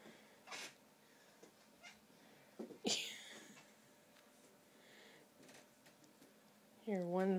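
A cat gives a short, rising meow near the end after quiet rustling and a sharp sneeze-like burst, with soft talk in the background.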